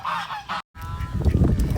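Farm ducks honk loudly and nearby in a few harsh, goose-like calls, with a brief silent gap, then a rougher flurry of quacking and shuffling as they gather for feeding.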